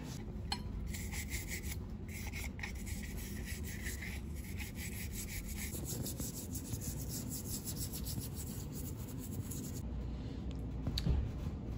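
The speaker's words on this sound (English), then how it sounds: "So I'll get some solvent, toothbrush, and work all that out of there." Toothbrush scrubbing with solvent on the end cap of an Enduro Engineering spark arrester, a steady close bristly rubbing that runs continuously with short brisk strokes, no talking.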